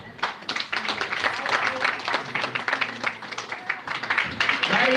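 A small group at a church gathering claps in a loose, uneven rhythm of distinct hand strikes, fairly near and moderately loud for several seconds.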